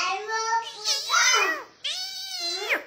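A human voice imitates an angry cat, giving two drawn-out, wavering meows with harsh rising and falling yowls, loud and close, alone without other sounds.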